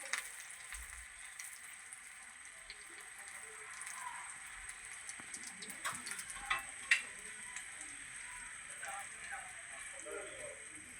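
Egg appam (mutta appam) frying in oil in a pan, a soft steady crackle and sizzle throughout with a few sharper pops near the end, close and fairly quiet.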